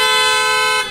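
A loud, steady auto-style car horn blares continuously for about a second, rich and brassy, then cuts off abruptly.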